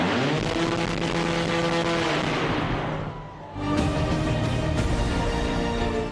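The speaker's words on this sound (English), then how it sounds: "a small but extremely powerful electric motor" The small but powerful electric motor of the Blackfly single-seat flying car runs continuously at high speed, a loud whirring whine with a brief dip before it surges again; no voices.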